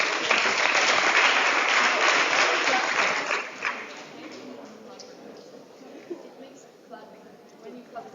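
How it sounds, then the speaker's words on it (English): Applause from delegates at a veterinary student association's general assembly, loud and dense for about three seconds, then thinning out to scattered claps and murmuring voices. "When you clap for people"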